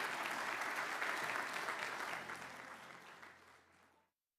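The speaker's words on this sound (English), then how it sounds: "So please give them a round of applause." Applause from a morning conference audience welcoming a panel. The room claps at a moderate level, then the sound thins out and fades into silence just before the end.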